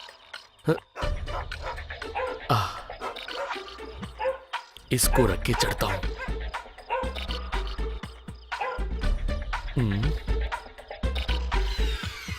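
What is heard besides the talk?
dogs barking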